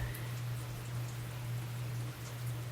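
Steady rain on a rainy day, a dense even hiss of falling drops that goes on without a break, with a low constant hum running underneath.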